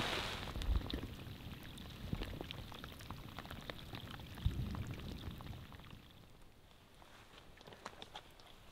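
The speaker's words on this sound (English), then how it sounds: "It rained all night." Rain falling overnight on a campsite in the remote Canadian wilderness, a steady soft patter with scattered droplet hits, heavier in the first half and easing slightly toward the end, with no voices.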